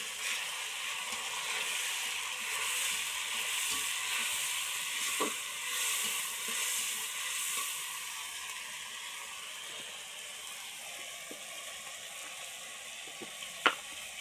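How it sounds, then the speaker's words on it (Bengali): Onions frying with ground cumin, ginger and spices in a pan give a steady, bright sizzle and hiss, with a few soft stirring scrapes and a sharp click near the end; no one speaks. "দেখো পেঁয়াজ ভেজে নিচ্ছি"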